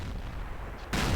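In a tank video game, a tank cannon fires at an enemy turret: a single sharp, loud blast hits near the end after a quiet stretch of low rumble, with no talking.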